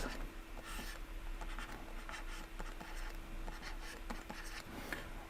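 Chalk or marker scratching steadily across a board as math is written out, a continuous close scraping with small taps and strokes and no talking.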